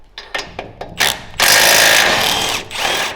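A Milwaukee power tool works loose tight bolts on a 500cc Duromax engine: several short ratcheting bursts, then a loud, sustained rattling whirr close by that eases briefly before surging again.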